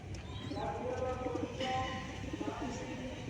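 Soft, low cooing from a pigeon handled up close, faint repeated coos beneath someone talking steadily.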